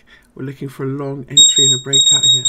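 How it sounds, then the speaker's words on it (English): A price-alert alarm from trading software sounds a steady high electronic tone that starts partway through and continues under a man's speech. "I've even got an alarm on it."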